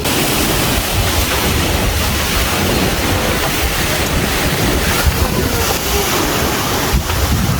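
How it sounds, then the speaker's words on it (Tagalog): Strong wind buffets the microphone continuously, a loud roaring rush with surf-like texture and no let-up throughout. "Grabe yung hangin!"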